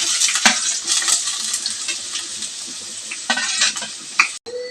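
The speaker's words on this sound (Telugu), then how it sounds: "ఇప్పుడు ఉల్లిపాయలు పచ్చిమిరపకాయలు వేసుకుందాం." Onions and green chilies sizzle and crackle loudly in hot oil in a pan, with stirring scrapes and a brief metallic clink near the end, for a village-style raw prawn curry.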